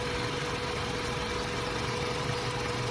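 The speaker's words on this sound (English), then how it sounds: "So this motor's probably gonna be loud, but we're also gonna check exhaust leaks on the headers." Honda Civic EK engine idling with aftermarket headers, a steady, close, continuous rumble with a faint mechanical whine on top, unchanged throughout with no voices.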